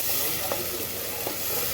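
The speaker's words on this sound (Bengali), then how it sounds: "তেলের উপরে সব 5 ফোড়ন দিয়ে দিলাম" Panch phoron five-spice and masala frying in hot oil for a Kolkata-style mutton curry, a steady close sizzle with a couple of soft scraping stirs.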